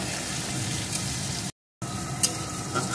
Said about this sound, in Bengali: এখন আরেকটু ভেজে নেব যতক্ষণ না এগুলো কাঁচা গন্ধ দূর হয়ে যায়।